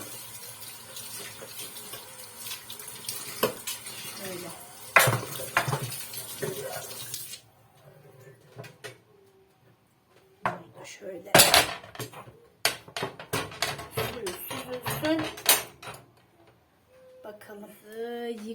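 Dishes washed with foamy soap under a running kitchen tap, with a steady stream of water broken by clinks and clatters of plates and cutlery, and a voice speaking now and then.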